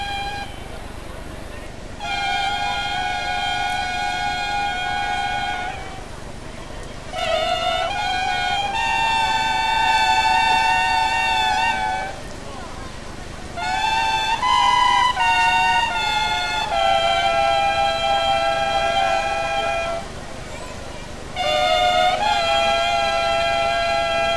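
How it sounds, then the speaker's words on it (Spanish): At a Holy Week procession, long bocinas carried on wheels blow loud, sustained mournful blasts, about four long notes separated by brief gaps, over a steady background of outdoor crowd noise. "Bocinas, largas tubas transportadas sobre 2 ruedas y tambores forrados con los colores de la cofradía"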